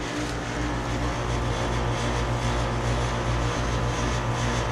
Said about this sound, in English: This is a 13-SEER Lennox Elite Series heat pump. It's got a Copeland scroll compressor.